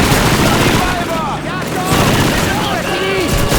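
Rapid gunfire bursts in the WWII shooter Call of Duty 2, layered with battlefield noise and shouted voices throughout.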